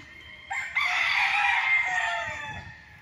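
A game farm rooster in its pen crows once, loud and close, one long drawn-out call rising sharply and fading out, with faint farm background and no talk.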